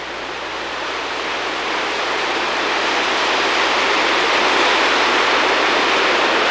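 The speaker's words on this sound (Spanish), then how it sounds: "Las turbulentas aguas del río Mala" The turbulent Mala river in Peru rushes past, a loud, steady broadband roar of churning water that swells slightly and holds constant, with no voices.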